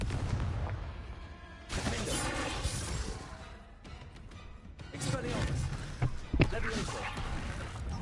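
A Confringo blasting spell in the Hogwarts Legacy video game erupts as a loud, explosive burst amid layered battle effects, with several more booming impacts following over a dense, continuous game soundscape.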